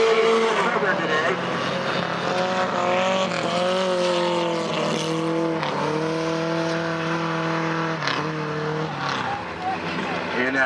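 Modified race cars roar around a short track at a Fever 4 main event, engines droning continuously and loud with shifting pitch as the field runs single file, a voice talking over the noise throughout.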